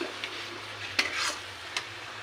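Tomatoes fry in oil with a soft, steady sizzle close by, punctuated by a few distinct stirring scrapes and a clink of a utensil against the pan, with no talk.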